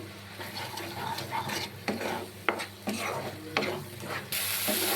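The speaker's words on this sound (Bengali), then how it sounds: "এবার এর মধ্যে স্বাদ মতো নুন দিয়ে এবার মশলাটাকে আমি ভালো করে কষিয়ে নেব।" Spice masala with cumin powder, coriander powder and salt being stirred and fried in a pan, a steady soft sizzle under repeated scraping taps of a spatula, close but fairly quiet, with no talk.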